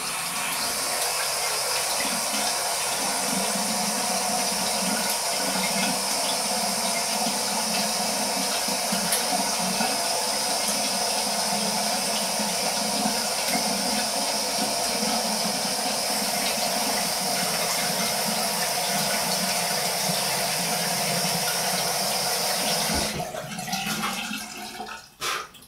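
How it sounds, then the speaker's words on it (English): Steady running water from a tap, loud and continuous for most of the stretch while wet shaving with a Merkur 37c slant razor, then cutting off abruptly near the end with a few brief splashes. "Get some more water on my face."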